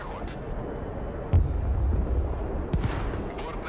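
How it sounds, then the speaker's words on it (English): Heavy bombs detonate in the Broken Arrow war game: a sudden deep boom lands, then a second blast follows over a constant low battlefield rumble. "Engaging our fighters and dropping bombs."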